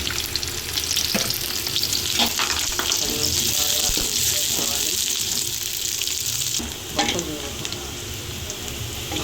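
Onion and garlic fry in a pan after mustard seeds, a loud close sizzle with stirring and scraping of a utensil, plus some watery splashing; no speech stands out.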